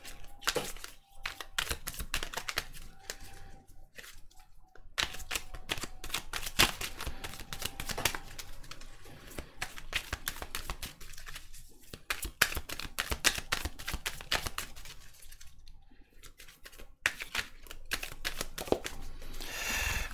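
A deck of playing cards is shuffled repeatedly during a French tarot-style card reading, dense crisp riffling and flicking bursts running the whole time with brief pauses, close and clear with no talking.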